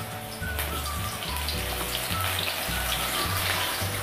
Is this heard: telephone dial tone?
no